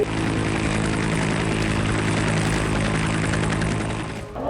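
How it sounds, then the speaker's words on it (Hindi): An Indian Air Force Tejas fighter jet passes overhead during a multinational air exercise, a loud, steady engine roar holding throughout before easing slightly at the end. "इस वक्त आपको आसमान में जो एयरक्राफ्ट दिखाई दे रहा है ये भारतीय वायुसेना का तेजस विमान है"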